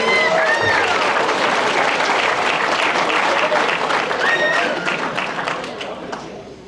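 Audience at a high school athletic banquet applauding athletes and coaches, a loud, dense burst of many hands clapping at once that tapers off over the final seconds.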